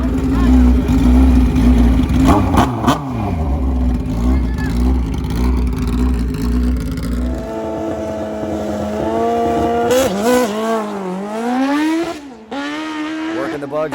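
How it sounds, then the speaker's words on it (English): Turbocharged Hayabusa grudge drag bike roars loudly through a full pass at a drag strip, with a heavy low launch, then rising and falling high-pitched engine revs through the gear changes. Crowd noise sits underneath and talk is faint. "Working the bugs out of this wild grudge bike Hayabusa."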